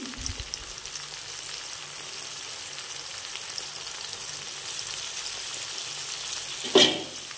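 Onion, tomato and green chilli sizzle steadily in hot oil in a pan, a soft continuous frying crackle with a brief louder burst near the end as more goes in.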